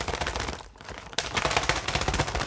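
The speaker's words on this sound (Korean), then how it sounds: "새 날개짓 소리네요." Foley bird wing flapping made by waving a fan in a sound-effects demonstration, heard as a dense, continuous fluttering whoosh that briefly dips, then returns close and loud.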